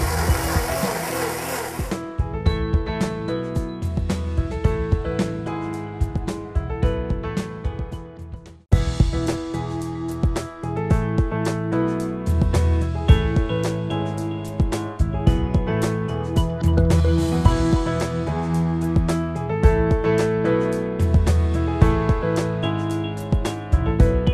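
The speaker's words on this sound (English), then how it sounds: "I'm going to make noise again with the blender." A blender whirs loudly and steadily for a long stretch, briefly cutting out partway before roaring back up, blending raw corn soup.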